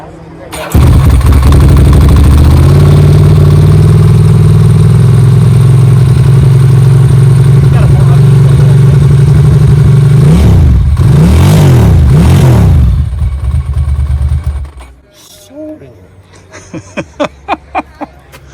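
A Ducati Monster motorcycle engine starts and idles loudly and close, with a deep steady throb, then revs in a few sharp blips before cutting off, followed by a few faint clicks.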